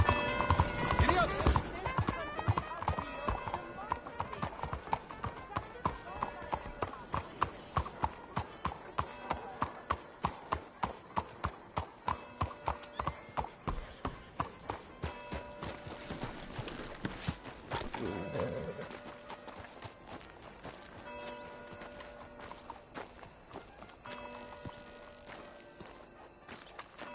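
Hooves of a horse in Red Dead Redemption 2 beat in a steady, rapid clip-clop that speeds into a gallop, then fade and slow before picking up again, with a voice speaking over parts of the ride.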